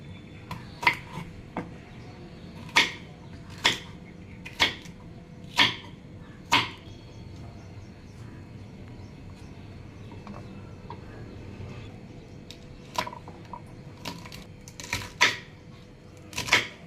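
Washed okra (bhindi) cut with a knife on a board, a series of sharp close chopping taps in uneven bursts with a quiet pause in the middle.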